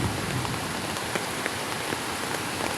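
Heavy rain pours steadily near a bridge over flooding water, a dense close hiss of drops beating down without a break, with no voices over it.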